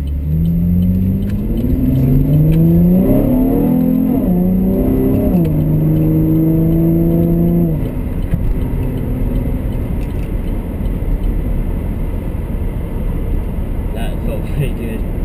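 A 2010 Camaro fitted with Hurst paddle shifters accelerates hard while driving, its engine note climbing through rising harmonics, dropping at a shift, then climbing again before settling into a steady road rumble with cabin noise.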